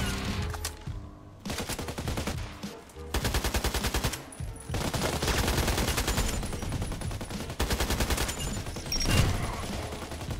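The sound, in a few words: gunfire from a video game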